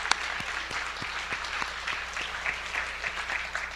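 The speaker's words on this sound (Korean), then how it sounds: "위에서 크게 한번 박수하십시다" Congregation applause at a Korean church worship service, a steady dense wash of many hands clapping for several seconds with a few sharper individual claps standing out near the start.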